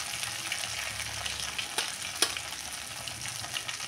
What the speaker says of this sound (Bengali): দেখো মশলাটা আমার ভাজা ভাজা হয়ে গেছে